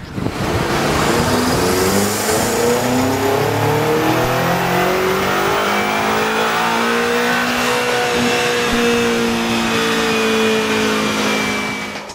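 A BMW M5 with a 4.4-liter twin-turbo V8 revs hard on a rolling road dyno, its engine note rising and holding in a loud, sustained drone with climbing harmonics, heard close and alone.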